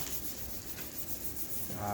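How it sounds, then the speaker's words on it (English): Hand sanding with fine 400-grit sandpaper on a surface being prepped for a flood coat, a steady close scratchy rubbing that runs continuously throughout. "So what she's doing is she's sanding it down"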